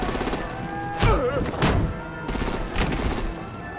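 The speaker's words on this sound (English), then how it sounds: "Break out the artillery and disable their vehicles!" Artillery gunfire in the video game Batman: The Enemy Within, with loud overlapping blasts and rattling bursts that come and go, mixed with other battle noise.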